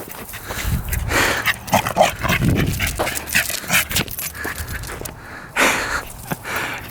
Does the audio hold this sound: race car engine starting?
no